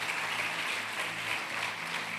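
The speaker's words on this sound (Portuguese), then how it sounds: "Será que você pode aplaudir Jesus por isso?" Church congregation applauding together, a steady, dense wash of clapping at moderate distance that holds evenly throughout, with a faint low hum beneath and no speech over it.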